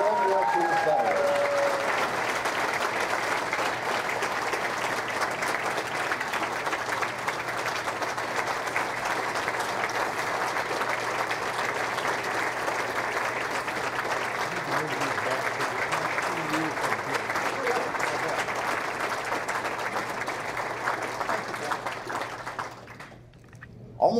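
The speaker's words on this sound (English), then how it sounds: "A big round of applause for our World War II veterans." Sustained applause from luncheon guests at a Veterans Day event honoring World War II veterans rolls on steadily for over twenty seconds, then cuts off abruptly at the end.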